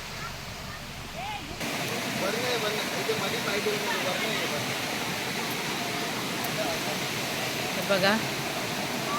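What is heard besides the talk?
river water flowing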